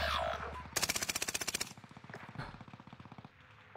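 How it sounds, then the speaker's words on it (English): Rapid automatic gunfire in a video game rattles out as a long, evenly pulsed burst, then continues in quieter, steady bursts near the end, with no voices over it. "Under heavy fire here."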